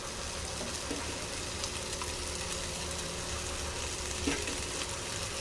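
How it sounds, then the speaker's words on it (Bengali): Potatoes sautéing in a pan for a bread sandwich filling give off a steady, close, broadband sizzle with a few faint stirring scrapes, and no one speaks. "ভালো করে আলুটা কষিয়ে নেব।"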